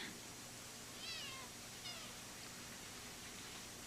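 A kitten gives two short, faint meows about a second apart over a quiet indoor background hum.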